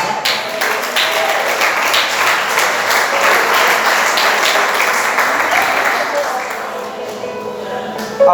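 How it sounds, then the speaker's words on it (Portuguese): A church congregation at an IPDA service claps in praise, producing dense, continuous applause that stays loud and even for several seconds before thinning toward the end. "Glória a Deus com palmas."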